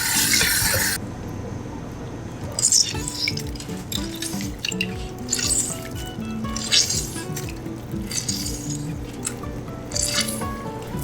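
Seamoss rinsed under running water in a kitchen, with trickling, dripping liquid and soft squishing handling sounds, plus a few light clinks, close and without talk.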